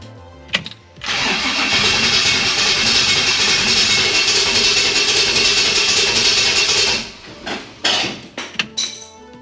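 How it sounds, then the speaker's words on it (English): A Chevrolet C10 truck engine cranks over without ignition, the starter churning in a loud rhythmic whir for several seconds after a brief click, then a few short bumps and knocks as it stops. "First crank over, no ignition."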